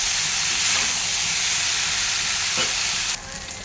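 An egg fries in a pan beside pasta cooking, making a loud continuous hiss and sizzle that drops away sharply near the end.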